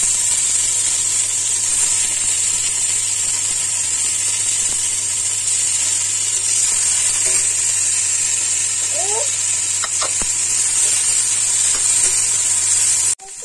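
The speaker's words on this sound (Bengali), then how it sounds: "টমেটোগুলো আমার হালকা ভাজা হয়েছে," Chopped tomatoes and two small garlic cloves fry in a pan for homemade baby tomato sauce, giving a steady, even sizzle for the whole stretch over a low constant hum.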